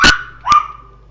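A pet dog gives two sharp barks about half a second apart, close and loud, in a quiet room.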